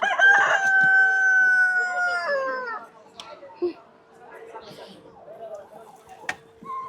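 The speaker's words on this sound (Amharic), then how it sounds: "ማይሻቸው ዶሮዎች እነዚህ ትላልቅ ናቸው። ቆንጆ ዶሮዎች ናቸው።" A rooster crows loudly and close in a drawn-out call at a busy poultry market, followed by scattered clucks, bumps and background chatter.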